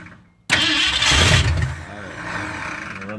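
A 1965 Mustang fastback, sitting unstarted for 44 years, cranks briefly and then fires, its engine catching with a loud, rough rumble that settles into a steady running idle.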